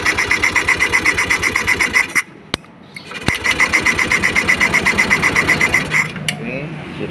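A Honda Scoopy scooter with an ignition fault is cranked on its starter in a loud, rhythmic whirring burst, cuts out briefly, then cranks again for several more seconds.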